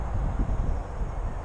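Low, steady rumbling gusts of wind buffeting the microphone, with no voices.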